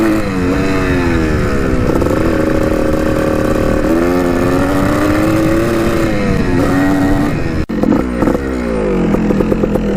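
A cheap $100 dirt bike rides close by, its engine revving and climbing in pitch, easing off, then cutting abruptly before a choppy, idling rumble returns.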